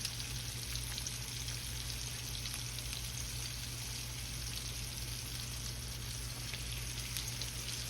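Flour-coated fish cakes made from leftover fish fry in hot oil with a steady, even sizzle that holds throughout, fairly quiet and close, with no voices.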